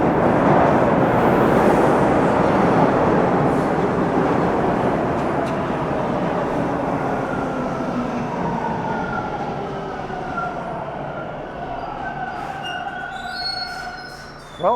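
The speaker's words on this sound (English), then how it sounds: "now it's time to catch an eastbound train" A Toronto eastbound subway train rumbles loudly, its wheels squealing in long, shifting tones as it gradually fades and slows.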